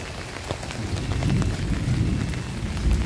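Steady rain pours down outdoors where children are playing after school, a dense constant patter with occasional low rumbles underneath.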